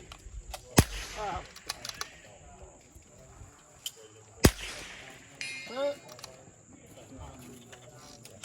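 Sharp, close .22LR rifle shots at a shooting match stage, two loud isolated cracks a few seconds apart with quieter pops between, as people talk in the background.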